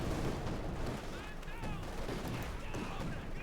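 A creeping artillery barrage in Company of Heroes 2 rolls on as a dense, continuous rumble of shell impacts and gunfire, with a voice talking over the battle.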